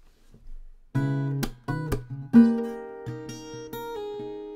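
Acoustic guitar strings picked and strummed with one string muted, in a short phrase of ringing notes and chords, close and clear, with no voices.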